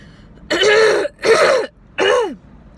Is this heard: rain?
no